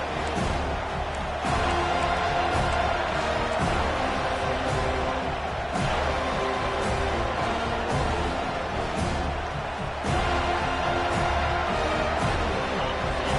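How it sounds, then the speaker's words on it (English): An American football stadium crowd cheers and roars loudly and steadily, with the noise swelling and dipping slightly throughout. "This crowd bringing the energy and noise early."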